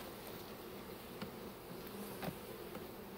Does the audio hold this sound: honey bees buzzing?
yes